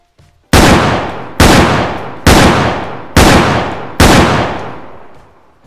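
Five loud, close gunshots from a single gun fire at a steady, evenly spaced pace, each crack trailing off in a long decaying echo before the next.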